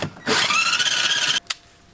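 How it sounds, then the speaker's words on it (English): A battery-powered drill working on a Land Rover Discovery 3 drive line during a ZF 6HP26 repair whirs loudly and steadily for about a second, then stops, followed by one short burst. "So now I need a bigger drill. My drill is battery assist."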